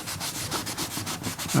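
Rhythmic back-and-forth sanding on an old wooden boat door removed for sanding, close by, a steady series of scratchy strokes ending in a louder rub.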